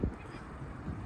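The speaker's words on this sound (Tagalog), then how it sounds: "Ang daming mga ibon, no?" Birds honk and call outside Seaside City Hall near Monterey, California, with a short close goose-like honk at the start and a few more scattered calls among the flock, set against steady outdoor background noise.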